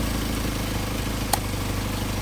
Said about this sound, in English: And you hear our engine faltering dramatically.